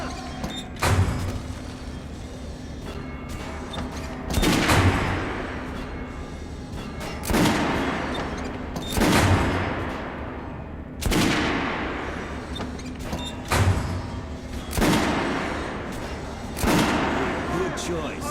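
Kalashnikov rifle fire in the video game Metro: Last Light, loud sharp bursts spaced about every two seconds, each followed by a short decaying tail, over a faint steady background tone.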